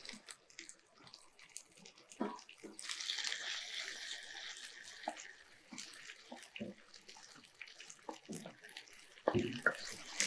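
Water pours steadily into a pan of mango chicken for a few seconds, with faint clinks and kitchen clatter around it at low volume.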